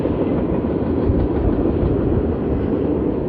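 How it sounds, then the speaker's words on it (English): A short freight train passes by the Walkway over the Hudson at Poughkeepsie, New York, with a steady, loud rumble and rolling clatter of wagons close by and no talking. "this train is a lot shorter than I thought. It's one of the smaller freight trains."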